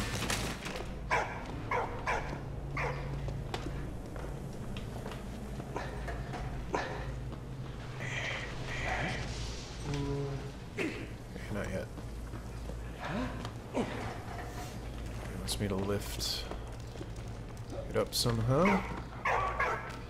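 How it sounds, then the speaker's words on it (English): A dog barks and whimpers intermittently amid sounds of the video game Valiant Hearts: The Great War and a low hum, while a person talks over it. "What are you barking at?"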